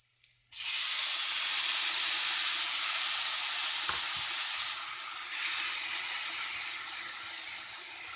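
Tomatoes tipped into a hot pan of cooking vegetables set off a sudden loud sizzle that keeps up as a steady, bright hiss of frying for several seconds, close and alone, with a faint clink partway through.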